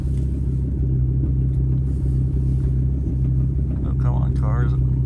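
A vehicle engine rumbles loudly and steadily while gears are shifted, its low drone holding nearly constant with slight pitch shifts, and someone talks briefly over it toward the end.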